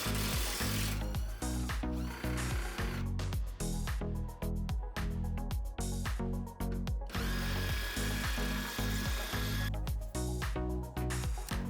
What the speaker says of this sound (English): And we'll go ahead and remove this other bolt that's holding it onto the subframe brace.